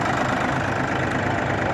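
An ISEKI TU205 compact tractor with a rotary tiller attached idles nearby, its engine giving a loud, steady, even rumble that does not change, with no voices.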